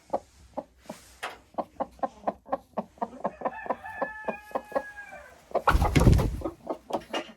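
A broody hen in a henhouse clucks in a steady run of short, rhythmic clucks, breaking midway into a longer drawn-out call, then a loud burst of flapping or scuffling before the clucking resumes.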